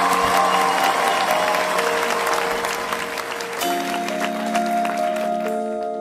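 A studio audience at a televised singing contest claps and cheers steadily, loud and close, with a sustained musical tone that shifts pitch partway through under the applause.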